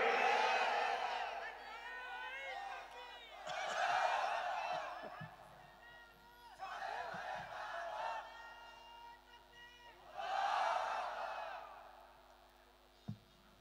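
A large crowd at an outdoor Islamic sermon roars a takbir response in four loud swelling waves of massed voices. Each wave rises and fades, with quieter gaps and a preacher's voice between them.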